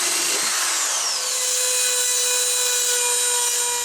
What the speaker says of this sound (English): drill a pilot hole, and then drill out the hole.